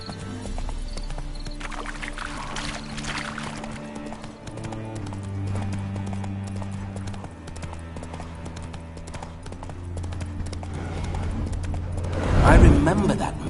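Rhythmic clip-clop of horse hooves trotting steadily in The Witcher 3 video game, under music and talking, with a louder thump near the end.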